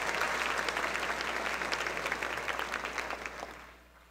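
Dense applause from a dinner crowd at the Tucson Festival of Books Author's Table Dinner, a sustained wash of clapping that gradually thins and fades out near the end.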